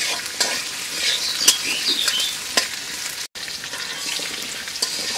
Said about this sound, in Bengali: এভাবে আমি সুন্দর সাহায্যে নেড়ে চেড়ে দুই পিসটাই খুব সুন্দরভাবে লালচে বর্ণের করে বা বাদামি বর্ণের করে ভেজে নেব